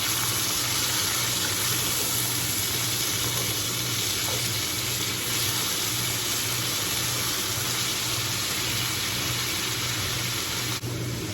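Drained canned diced tomatoes, 14.5 ounces, go into a hot pan with beef shanks and sizzle in a steady, dense frying hiss that holds evenly close up for the whole stretch, with no talking.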